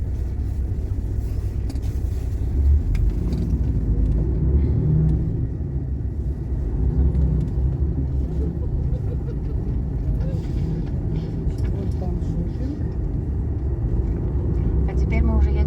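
A car drives along a city street, Adama Mickiewicza Street in Białystok, Poland, heard as a continuous low engine and road rumble from inside the vehicle, with someone talking steadily over it.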